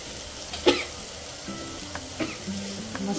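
Someone cooking a spice tempering with turmeric coughs several times from the fumes, in short isolated bursts over a faint kitchen background.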